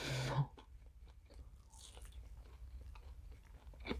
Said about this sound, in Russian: Я жевать устала.